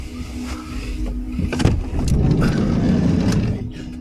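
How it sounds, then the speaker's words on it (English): A car moving around outside a parked van at night, a low engine hum that swells and builds partway through, heard from a short distance alongside faint rustling movement nearby. "There's a car pissing about up there."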